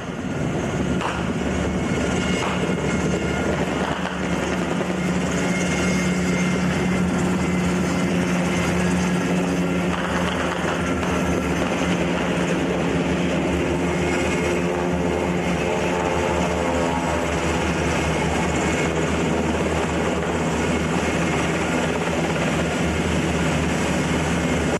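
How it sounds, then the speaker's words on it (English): Black Hawk helicopter approaching during a combat scene in the 1989 US invasion of Panama, a loud steady rotor and engine roar that stays dense and continuous throughout, with no talk. "Black Hawk helicopter approaches with a howitzer."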